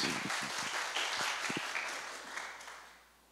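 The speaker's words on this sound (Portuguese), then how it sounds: "Edith, então, uma salva de palmas, Edith." Audience applause at a culture and sustainability festival event, dense clapping holding steady and fairly close, then thinning out and fading toward the end, with no talk over it.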